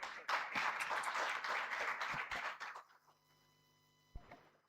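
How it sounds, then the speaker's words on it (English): Conference audience applauds a speaker with a burst of dense clapping lasting under three seconds, then it stops abruptly, leaving a faint hum and a single sharp knock. "A huge round of applause for sir."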